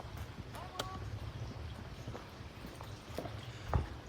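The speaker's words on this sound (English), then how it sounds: "everybody's got their horses out getting ready to hit their trails" Horses at Fox Creek Horse Campground clip-clop faintly and irregularly nearby, scattered hoof knocks over quiet outdoor background, with one louder thump near the end.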